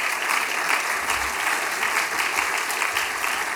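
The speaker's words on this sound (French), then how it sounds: "Vous pouvez applaudir." Audience applause at a political speech during the Fête de la Pomme 2024, a steady, dense wash of many hands clapping that holds for a few seconds without pause.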